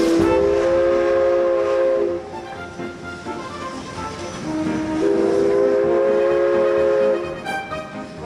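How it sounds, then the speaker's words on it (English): The historic Spirit of Kamloops train in Kamloops sounds its whistle in two long, loud blasts separated by a short pause, with rail rumble continuing underneath. "a perfect night for a ride on the historic Spirit of Kamloops train"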